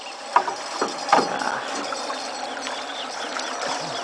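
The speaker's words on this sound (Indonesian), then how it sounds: "kita sedang menyeberangi sungai pakai perahu kecil ini" Faint mechanical creaks and rattles of a small boat crossing a river, over a low continuous rumble of water and engine.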